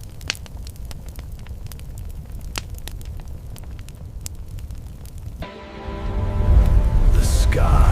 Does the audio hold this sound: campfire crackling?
yes